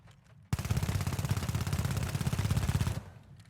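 Sustained automatic fire from the M11 gun in the video game The Finals, one loud unbroken burst of rapid evenly spaced shots lasting about two and a half seconds, close and alone.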